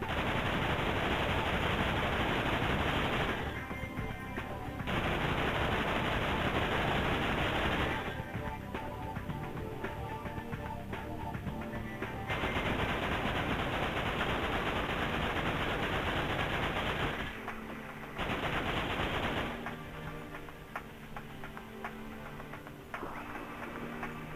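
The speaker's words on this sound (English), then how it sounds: "Gun turret is a mounted machine gun." Mounted machine gun turret in Dirge of Cerberus blasting in long sustained bursts, each several seconds of dense rattling fire, with short pauses between them and game sounds in the gaps.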